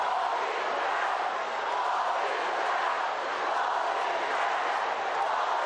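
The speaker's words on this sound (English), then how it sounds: "And now the St. Louis faithful, they're being very vocal here." St. Louis football fans roar in a sustained, loud crowd cheer at a high school championship game in a stadium, their voices swelling into a dense, continuous wall of chanting and yelling.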